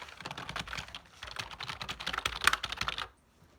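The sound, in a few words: typing on a new USB keyboard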